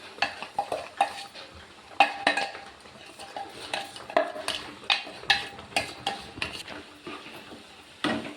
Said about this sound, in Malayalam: നല്ലപോലെ ഒന്ന് ഇളക്കി യോജിപ്പിച്ച് എടുക്കണം.